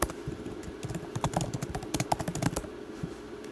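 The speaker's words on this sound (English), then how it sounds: "I'm a very fast typer, by the way." Fast typing on a computer keyboard: a rapid, dense clatter of close keystrokes for about two and a half seconds, then tapering off into quiet.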